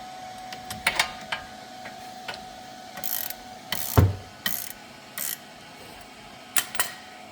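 A ratchet turns the bolt holding the brake hose on a 2015 Kia Sportage during front wheel bearing replacement. Short, loud, close bursts of clicking ratchet strokes come separated by pauses, with a heavier clunk midway and no speech.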